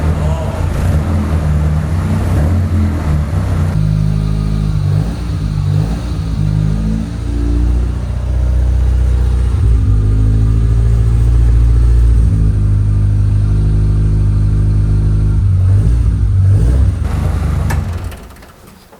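A BMW M44 four-cylinder engine, freshly repaired after a head gasket job on a race car, runs loud and close, revving up and settling over a steady rumble before cutting off near the end.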